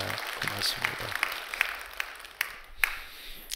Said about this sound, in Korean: 우리 한번 박수 한번 하실까요?